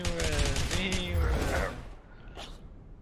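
Gunfire bursts from the video game A Way Out, loud and dense over the first second and a half and mixed with a voice, then fading into quieter rumble with a faint later sound.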